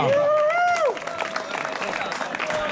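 Crowd applause and clapping for a cyclist at a French amateur road race, following a sustained tonal sound at the start and continuing as a lively, moderately loud patter to the end.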